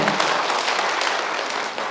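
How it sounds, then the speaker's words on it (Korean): Crowd applause for a county governor at a public lecture event in Bonghwa, a steady dense wash of clapping from a large audience, close and continuous throughout. "박수 한 번 더 쳐주세요"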